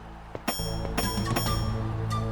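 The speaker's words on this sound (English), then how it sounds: "My magic bell fell on the ground." A small magic bell drops to the ground and rings, a few sharp metallic strikes followed by a sustained bright, shimmering ring that keeps sounding.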